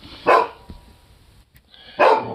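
A dog barks excitedly after hearing a door outside, two loud close barks a little under two seconds apart, with quiet room noise between them.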